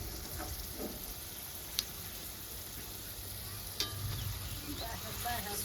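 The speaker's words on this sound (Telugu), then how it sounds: "కుతలాడుతుంది చూడండి పచ్చడి." Watermelon seed chutney bubbling and simmering in a pan, a soft continuous sizzle with a couple of sharp ticks, fairly faint and close.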